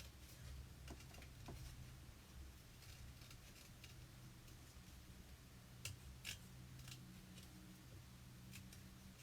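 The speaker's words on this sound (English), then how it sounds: "I'm just literally using my scissors to trim round" Scissors snip and trim around a piece of craft card, with quiet, irregular small cuts and ticks over a low background hum, close and faint.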